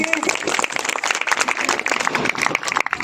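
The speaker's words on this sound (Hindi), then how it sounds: "यीशु के लिए जोरदार ताली बजाइए" Dense, continuous clapping from a crowd at a Christian wedding ceremony, sustained at steady loudness for several seconds, with a few voices mixed in.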